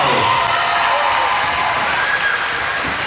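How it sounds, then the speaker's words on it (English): A large audience applauds at the Saugeen Shores Battle of the Blades 2018 community event. The clapping is dense, loud and steady throughout, a continuous wash of many hands with faint cheering mixed in. "Give her one more nice round of applause."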